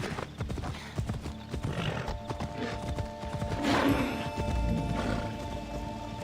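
A horse gallops in Assassin's Creed Odyssey, with quick hoofbeats thudding in a steady rhythm under game ambience and a brief whinny partway through.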